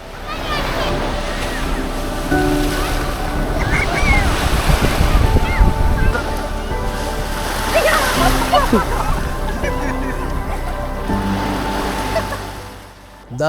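Sea waves surge and break continuously at Kappad Beach in Calicut, a steady loud wash of surf with wind buffeting the microphone and voices faintly in the background.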